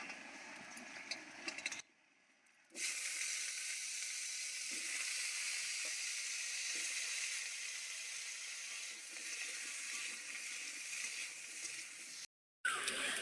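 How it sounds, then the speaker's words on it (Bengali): Potato pieces fry in a small amount of oil in a kitchen pan, giving a soft, continuous sizzling hiss with brief gaps, fairly faint and close. "এবার আলুগুলোকেও ভেজে নেবো একদম ওই অল্প তেলে"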